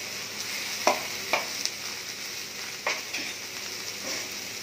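Mixed vegetables sautéing in a pan with cumin, coriander, turmeric and salt, a steady soft sizzle broken by several scraping stirs of a spatula, close by with no talk.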